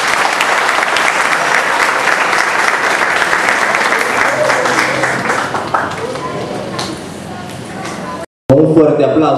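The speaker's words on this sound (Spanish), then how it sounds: "Un fuerte aplauso al señor Juan Francisco Ramos." Loud, sustained applause at a diploma ceremony of a broadcasting school in Nicaragua, dense clapping that gradually thins and fades, followed by a brief cut and a burst of room noise.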